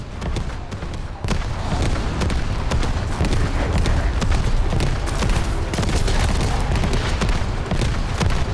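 Enemy artillery fire pounds in The First Descendant, a loud, continuous barrage of booming blasts and crackling gunfire with heavy rumbling that barely lets up.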